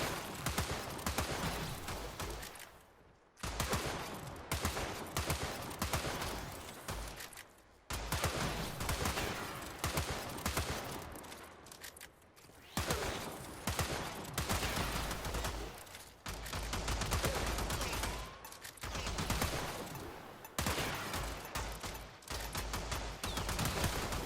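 Zylok pistol gunfire in the video game Warframe, made up of long stretches of rapid, loud, densely packed shots broken by short pauses between bursts, with no talking.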